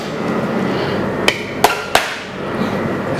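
Chicken farce is whacked into a terrine mould in a kitchen, three quick sharp knocks over a steady background hum.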